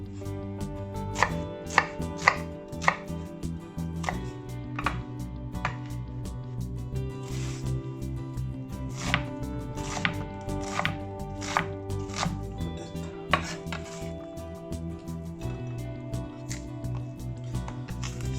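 A knife chops garlic and onion on a board with a steady run of sharp, close knocks, some quick bursts and some spaced strikes, over a continuous low musical hum.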